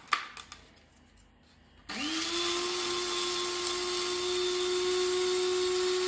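A Silvercrest electric coffee grinder starts after a few light handling clicks and grinds coffee beans with a steady, loud, high motor whine that holds continuously for about four seconds.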